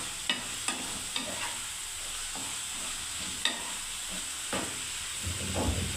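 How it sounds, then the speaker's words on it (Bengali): Onions stirred and fried in a pan for piyaji posto: a soft continuous sizzle with several sharp clinks and scrapes of the spatula against the pan, close and fairly quiet. "এই পেঁয়াজটাকে এবার করে বন্ধুরা নেড়ে দিচ্ছি।"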